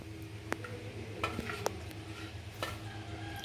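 Jackfruit payasam stirred in a pot after coconut milk goes in, with a low steady bubbling and soft scraping of a spoon, broken by a few sharp metallic clinks against the vessel, with no talking.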